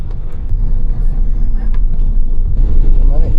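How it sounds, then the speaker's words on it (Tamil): Heavy road traffic rumbles past in Gabala, Azerbaijan, a loud, continuous low roar of vehicles close by with scattered higher engine whines and tones. "மண்டே டிராஃபிக்கை பாருங்கங்க, செம்ம டிராஃபிக்கு."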